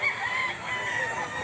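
A rooster at a livestock auction market in Lipa crows and clucks close by, a steady run of throaty calls over a busy background with no clear speech.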